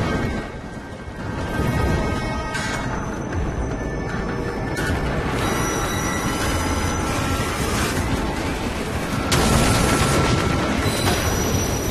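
In Assassin's Creed Unity, a train thunders past close by, a loud, sustained rumble of clattering wheels and heavy mechanical noise that grows and surges for about twelve seconds, with sharp bursts layered through it.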